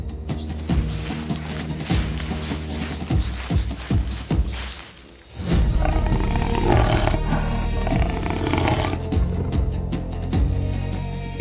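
A lioness roars and snarls in several harsh bursts, followed by a sustained loud growling, with no talk.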